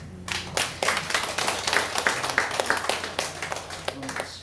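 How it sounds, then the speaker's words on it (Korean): Church congregation claps together during a Sunday morning service, a fairly steady run of clustered claps at moderate loudness over a low background hum. "한번 박수하겠습니다"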